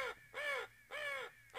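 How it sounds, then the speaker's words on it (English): A crow in Garry's Mod caws three times in a slow, even rhythm, each harsh call clear and close with short gaps of quiet between. "Shut up, you crow."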